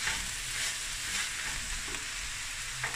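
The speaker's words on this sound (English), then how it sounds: "Give it a stir." Steak mince fries in a pan and is stirred, giving a steady close sizzle with soft scraping under it and no talking.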